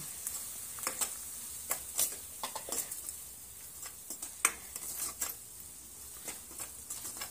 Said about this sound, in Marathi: हे प्रथम आपण तेलात व्यवस्थित असं परतून घेऊ।